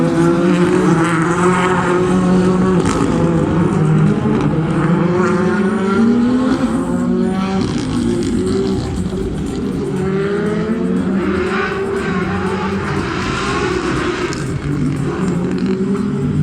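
A rally car starts a stage at the 2021 Rallye de Wallonie in Belgium, its engine loud and close, revving hard through rising and falling gear changes with a continuous roar, no talking.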